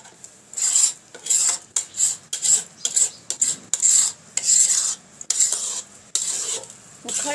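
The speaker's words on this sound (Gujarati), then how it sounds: "ઉખાડી અને ઇલાયચી પાવડર મિક્સ કરી દઈશું." Spoon stirring thick milk peda dough mixed with cardamom powder in a metal pan, a steady run of scraping, rasping strokes in uneven bursts, close and clear with no talk.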